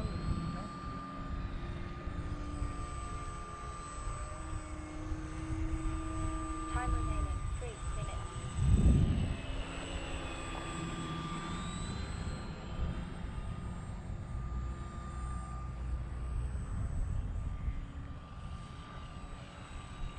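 Small airplane in flight before landing, with a steady engine drone and a louder swell near the middle; a voice talks over it at times.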